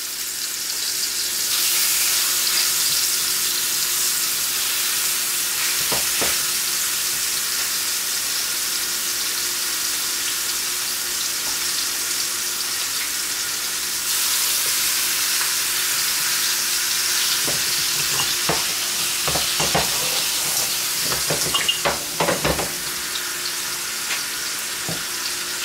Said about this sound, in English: we're just going to lay our pork chops in there just like that